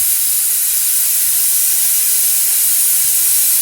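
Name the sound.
pressure cooker whistling with steam while cooking sambar rice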